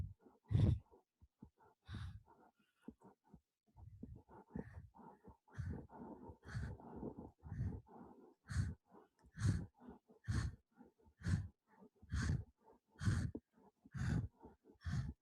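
Rhythmic yoga breathing, alternating exhales and inhales in a steady paced cycle, close and clear, each breath a short audible burst of air repeated many times with quiet gaps between.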